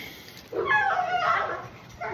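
A dog gives a drawn-out, yelping whine-like bark, near and fairly clear, over quiet background with no talking.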